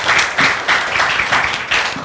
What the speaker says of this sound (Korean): 환영과 격려의 박수 우리 한번 부탁드리겠습니다